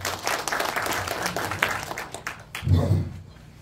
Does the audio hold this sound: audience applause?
yes